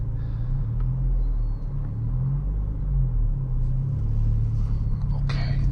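A 2023 Acura Integra pulls away in first gear, its engine a steady low rumble that rises gently as it moves off, heard from inside the cabin with faint rustling and no speech.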